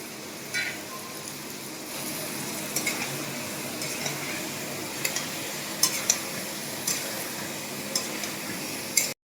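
Chilli chicken frying in a pan gives a constant close sizzle, broken by occasional sharp clinks and scrapes of a spoon against the pan.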